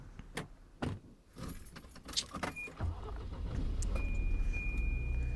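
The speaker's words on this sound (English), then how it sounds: "the sound of car wheels tearing the asphalt reaches our ears" A car in the Snoot Game visual novel drives in after some jangling and clunking sounds, then a steady, growing rumble of tyres and engine at moderate loudness.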